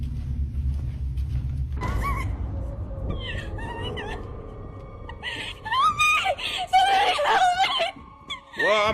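A woman screams in sharp, wavering bursts in a hotel setting, loud and high, after a low rumbling start, with a voice talking in between.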